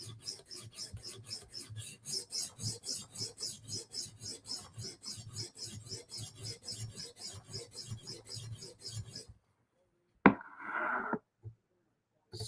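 A knife blade is sharpened to raise a burr, with steady, rhythmic back-and-forth rasping strokes close up for about nine seconds, then silence and a brief faint scrape.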